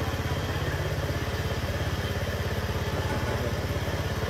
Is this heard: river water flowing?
no